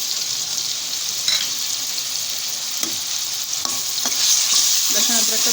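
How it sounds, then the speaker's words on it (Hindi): Ginger-garlic paste and tomatoes sizzle steadily in a pan while a utensil stirs and scrapes through them with a few sharp clicks against the metal. "इसको हल्का सा इस तरीके से चला लूँगी।"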